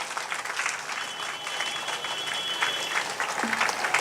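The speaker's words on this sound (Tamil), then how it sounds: "நல்ல கைத்தட்டு கொடுங்க இந்த பிள்ளைக்கு" Sustained applause from an audience at a temple gathering, cheering on a child, steady dense clapping throughout at moderate loudness.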